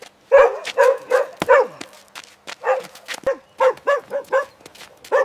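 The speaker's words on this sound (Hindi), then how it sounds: "ये साला कुत्ता रोज यहाँ पीछे 3 सालों से भौंक रहा है।" A dog barks outside a factory in a quick, loud, close series of about a dozen sharp barks and yips, with short pauses between bursts and no other voices.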